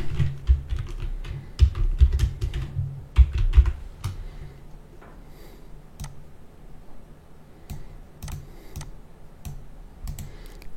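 A name typed on a computer keyboard, heard as close, fast bursts of key clicks, dense and rapid at first, then slower, scattered taps with short pauses, and no talking.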